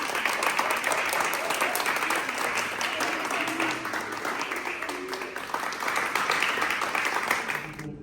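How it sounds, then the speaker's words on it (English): A crowd of secondary school students claps in sustained, loud applause at a school donation drive, steady dense clapping throughout with some voices mixed in before it fades at the end. "give yourselves a big round of applause"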